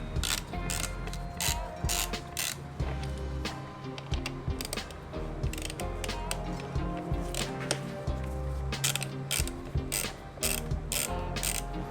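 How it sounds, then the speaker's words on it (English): Screws being backed out of a Ducati's radiator guard with a ratcheting tool, giving steady rapid clicking bursts with a busy mechanical texture throughout, fairly close and without any voice. "We'll start by taking off the 4 screws that are on the side of the radiator guard."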